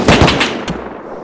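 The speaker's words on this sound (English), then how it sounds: "Gunfire. Wonder where that came from." A short burst of rapid gunfire in the video game Rust, several sharp shots in quick succession, loud and close, then a brief fading tail.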